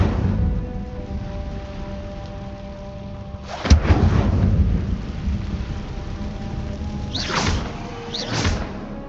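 A crackling whoosh of the Incendio fire spell in Hogwarts Legacy bursts out loud and sharp, then rumbles away, with two more softer flaring bursts later over a steady low ambient bed.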